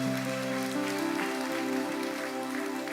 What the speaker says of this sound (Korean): 우리 하나님께 영광의 박수 한번 합시다.